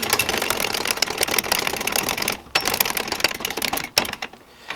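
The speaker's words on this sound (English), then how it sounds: "Now if I close the valve, jack it up." A hydraulic floor jack with its valve closed is pumped up, giving a quick run of close, rhythmic clicking and clattering strokes with brief pauses between them.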